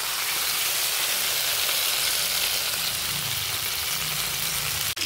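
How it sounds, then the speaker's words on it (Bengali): Steady, loud hiss of pointed gourd frying in oil, a continuous crackling sizzle with no voices. "বেশ খানিকটা তেল দিয়ে আমি এটা ভাজা ভাজা করে নেড়ে নিচ্ছি"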